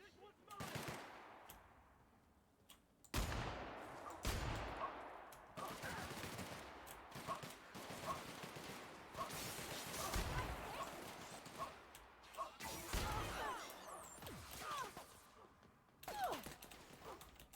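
Bursts of rapid automatic gunfire in an action video game, some volleys dense and sustained, others short and choppy, with voices talking over much of the shooting.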